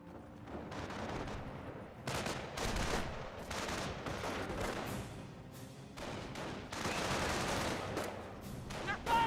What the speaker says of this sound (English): They're firing on our position!